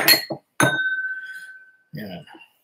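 A fresh whisky glass rings with a sharp clink when picked up, its clear tone hanging and fading over about a second, with short bursts of talk just before and after.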